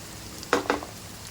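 Onions fry in a pan for pulao with a soft, steady sizzle, and two quick scraping stirs stand out briefly, close by and with no talking.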